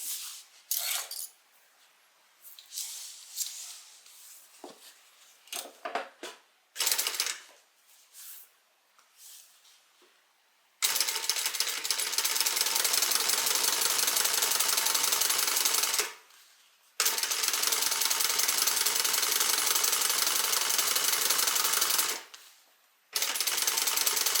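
A sewing machine runs in long, continuous bursts while top stitching the pocket lining of a handbag. Two sustained runs are split by a short pause. Scattered clicks and handling noises come first.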